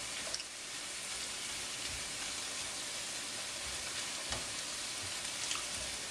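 Shrimp sizzling steadily in a hot pan for curry, a continuous close crackling hiss with small pops and no talking.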